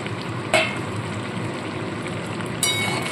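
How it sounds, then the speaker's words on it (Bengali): A pan of vegetarian gravy with potato, eggplant, fried lentil dumplings and drumstick pods simmering, giving a steady soft bubbling hiss with two brief metallic clinks near the start and end. "দেখুন ঝোলটা ফুটতে শুরু করে দিয়েছে।"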